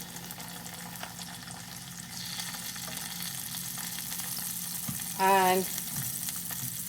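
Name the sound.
onion masala and turmeric sizzling in pan for chole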